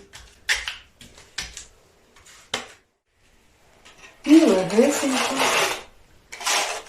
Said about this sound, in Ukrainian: І такими рухами починаємо наносити на поверхню.